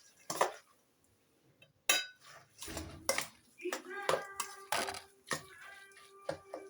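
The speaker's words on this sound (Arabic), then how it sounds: "نقلب بقى بهاراتنا كده مع الحاجه ديت." Spices stirred into a dish, with scattered clinks and scrapes of a utensil against metal cookware and a few ringing metallic taps, close by in a quiet kitchen, with some talking in the background.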